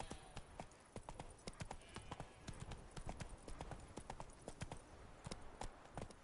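Hooves of Roach, a horse in The Witcher 3, gallop in a fast, even clip-clop rhythm, close and steady across the whole stretch.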